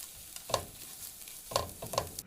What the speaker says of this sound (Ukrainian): Перемішуємо і обсмажуємо ще 5 хвилин